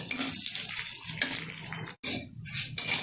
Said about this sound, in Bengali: ডালটা খুব ভালোভাবে ভেজে নিতে হবে তেলের সাথে